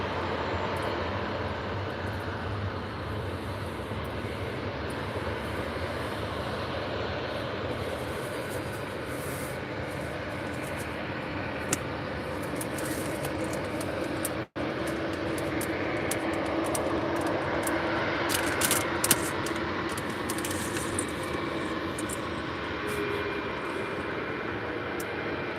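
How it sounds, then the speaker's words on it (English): An easyJet Airbus A320-200 passes at Faro airport, its steady broadband jet roar holding at a moderate distance throughout, with a brief dropout midway and slight swelling toward the end. "So there is the easyJet A320-200."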